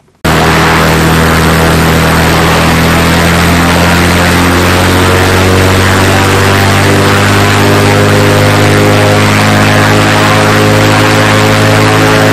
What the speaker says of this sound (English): We're going to pull it outside, run the engine up.